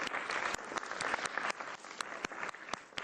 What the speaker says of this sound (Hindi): इंडिया के लिए तालियां।